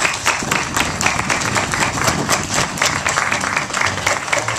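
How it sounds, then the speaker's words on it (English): An audience at an outdoor book and music festival claps for a guest, giving a steady, dense round of applause that stays loud and even throughout, with a faint hint of voices beneath. "let's give her a round of applause."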